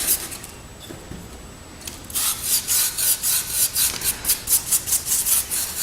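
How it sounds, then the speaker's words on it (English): A brush grinds chalk into scribed stone, starting faintly and then turning into a rhythmic run of loud, close scrubbing strokes, about two per second. "So I'll just take my brush and grind it in."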